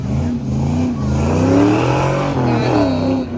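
A race car powers through an autocross course, its engine revving hard and rising through the gears with brief lifts between bursts, close and loud with no talk.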